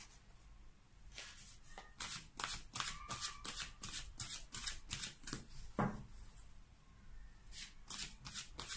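Tarot and angel cards being shuffled by hand, a steady run of crisp riffling bursts close up with brief pauses between them and no talk.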